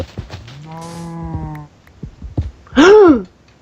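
A cow in the SkyLand video game moos loudly twice, a long drawn-out low call followed after a pause by a shorter, higher rising-falling moo, with soft clicks and game noises between them.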